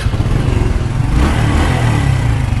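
A Honda motorcycle engine runs steadily at idle, a loud, close, continuous low rumble with no talk over it.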